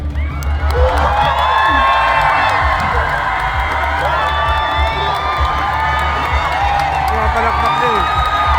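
An audience at a costume contest keeps up steady loud cheering, whooping and clapping throughout, with children shouting and voices mixed into the crowd noise.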